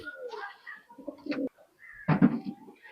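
Pakistani high-flying pigeons coo close by in short throaty bursts, a few separate calls with brief pauses between them.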